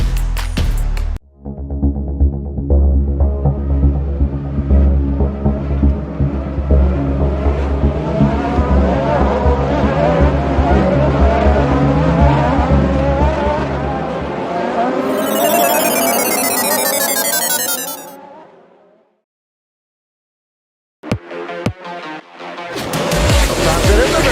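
Race cars at the Milwaukee Mile short oval roar past together at the green flag, a dense and loud engine drone that builds and then fades before falling silent, with more noise returning at the end.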